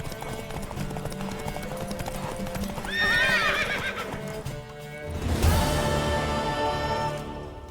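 A mare neighs and whinnies loudly twice in The Witcher 3, close and prominent, over hoofbeats clip-clopping and game ambience, with brief speech in between.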